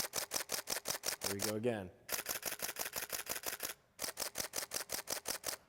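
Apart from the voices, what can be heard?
Nikon D610 and D600 shutters in continuous high-speed mode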